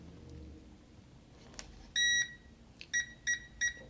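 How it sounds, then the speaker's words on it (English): A ZIIP microcurrent facial device gives a long electronic tone and then three short clear beeps in quick succession, crisp and close against a quiet room. "That double beep means that it's synced."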